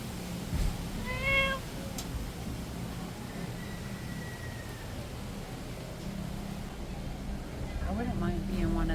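A cat meows a couple of times early on, fairly close, against a steady low hum, with a few more faint meows near the end, in Key West.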